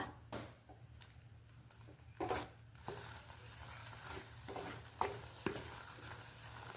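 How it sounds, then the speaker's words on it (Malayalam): Mashed ripe plantain being stirred with ground coconut paste in a pan for a Kerala-style sadya pachadi, giving soft, irregular scraping and squishing strokes over a steady low hum, close and fairly quiet, with no talking. "അരപ്പ് ചേർത്ത് നന്നായി ഇളക്കി കൊടുക്കുക"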